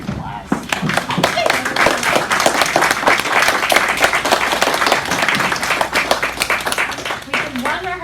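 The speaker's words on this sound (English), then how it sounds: "Let's give them a round of applause." Audience at a school publishing party in a classroom gives a sustained round of applause, dense and steady throughout, with some voices mixed in.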